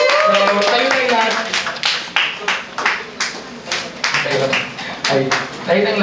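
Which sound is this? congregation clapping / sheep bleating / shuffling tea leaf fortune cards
congregation clapping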